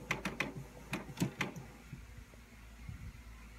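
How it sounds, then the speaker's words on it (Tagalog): A home inkjet printer powering up gives a quick series of faint mechanical clicks followed by a low, quiet motor whir in a silent room. "Kasi nagpre-prepare po ang printer natin"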